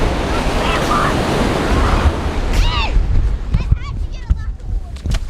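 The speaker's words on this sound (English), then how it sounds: "Those waves are very strong." Strong ocean waves break on a beach, a loud steady roar of surf mixed with wind buffeting the microphone, with voices talking over it toward the end.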